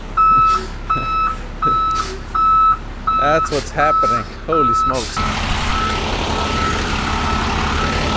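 A truck backing up on a grading site for a concrete foundation pad, its reversing alarm beeping in a steady, evenly spaced series. The beeps are loud and close, and a voice breaks in over the alarm near the end.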